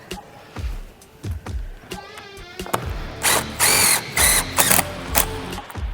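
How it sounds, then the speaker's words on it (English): A power drill runs in short loud bursts during a DIY caravan repair, whirring up and stopping several times in close succession, with brief talk between the bursts. "Drill time."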